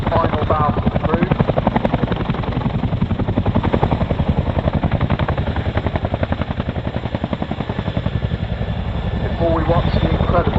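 An RAF Chinook twin-rotor helicopter performs an airshow display at Cosford, its heavy rhythmic blade thumping loud and steady throughout, with a commentator's voice running over the roar.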